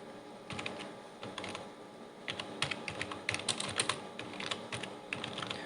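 Computer keyboard clatter as C++ code is typed, with quick irregular key clicks close to the microphone, sparse at first and then denser bursts of keystrokes.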